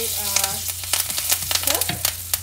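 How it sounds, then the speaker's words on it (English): Dried chillies and curry leaves sizzle loudly in hot oil for lemon rasam, a steady frying crackle with a low hum beneath and sharp pops and spatters throughout, close up with no voices. "I'm going to add in my dried chili and my curry leaves"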